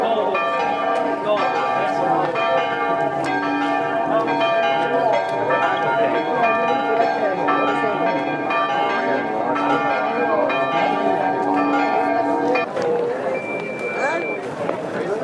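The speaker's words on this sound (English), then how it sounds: "The bells of the church ring at 12 o'clock." Church bells ring at noon near the Roman Forum in Rome, a loud, continuous, sustained pealing over a murmur of crowd voices, then easing off near the end.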